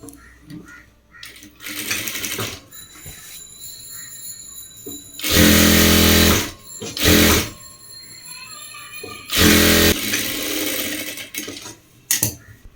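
A sewing machine stitches fabric for children's shorts in several loud, close bursts of rapid mechanical whirring, separated by quieter pauses with handling sounds and brief talk.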